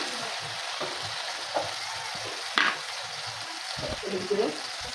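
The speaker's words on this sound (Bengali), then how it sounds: "মশলাটা ভালো করে কষিয়ে নিয়েছি।" A spice paste of black cumin, ground cumin and salt sautés in oil for a bhola fish and eggplant curry, giving a soft, steady sizzle with a few light clinks of stirring.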